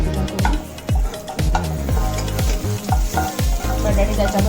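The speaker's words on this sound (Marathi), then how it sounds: "बटाटे त्याच्याबरोबर शिजत राहतील." Potatoes fry in hot oil in a pan while making stuffed brinjal, giving a loud, steady sizzle broken by rhythmic stirring scrapes close by.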